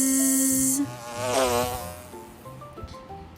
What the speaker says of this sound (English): He can sound like a bee. Mr. Brown can buzz.